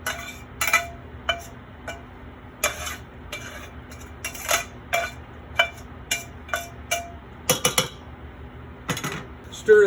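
A utensil scrapes and clinks against a hot pan while caramelized onions and garlic are stirred, giving a series of sharp, close metallic taps spaced irregularly over a quiet background.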